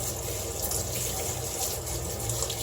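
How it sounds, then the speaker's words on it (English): Hands being rinsed under a running tap at a sink, a steady close rush of water running throughout with no pauses and no talking. "I am going to rinse my hands before I put them in the white"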